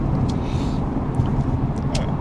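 A Mercedes-Benz C300 with a four-cylinder engine, heard from inside as a steady low engine and road drone, moderately loud and unbroken over a couple of seconds.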